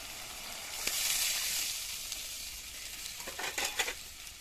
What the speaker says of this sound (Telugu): ఇప్పుడు ఇట్లా పులుసు మరుగుతుంది చూసారా